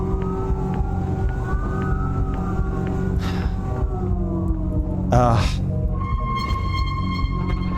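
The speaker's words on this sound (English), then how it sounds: "I already hear the ambulance now" An ambulance siren wails at a distance while a long escalator in a subway station on a city transit system rumbles underneath, with rising and falling tones, a few sharp clanks and a brief louder burst near the end.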